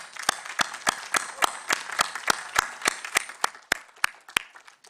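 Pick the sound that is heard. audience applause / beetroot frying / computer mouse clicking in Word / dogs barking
audience applause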